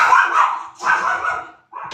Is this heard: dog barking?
yes